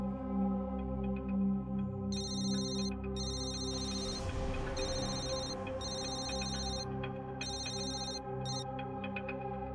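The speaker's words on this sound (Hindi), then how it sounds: "फोन क्यों नहीं उठा रही?" An electronic ringtone repeats in short bursts over a steady tonal background, ringing on and on with no one picking up.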